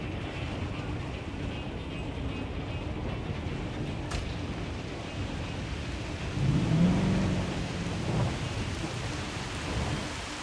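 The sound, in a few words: thunderstorm with rain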